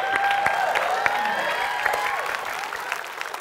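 A studio audience applauds on an Indonesian television dating show, a dense steady clapping that holds at a fairly loud level throughout, with faint music or tones running underneath.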